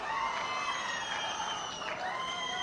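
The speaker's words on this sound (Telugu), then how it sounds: "గట్టిగా చప్పట్లు కొట్టి అభినందించండి ఇలాంటి మంచి పని చేసినప్పుడు" An audience at a Swachhandhra–Swarnandhra public program with Chief Minister Chandrababu Naidu claps and cheers. The crowd noise is steady, loud and continuous throughout.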